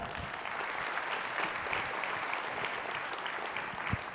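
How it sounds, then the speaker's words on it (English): A conference audience applauds itself in a large room, steady dense clapping at a moderate, slightly distant level running throughout without pause. "Give yourselves a round of applause."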